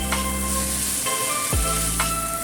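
Chicken chow mein with dark soy sauce stir-frying in a pan, giving a steady close sizzle with a few soft scrapes of stirring across the short stretch.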